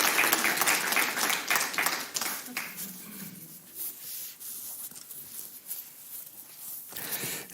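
An audience at a talk breaks into a loud burst of clapping that thins out after about three seconds, leaving scattered claps and a speaking voice.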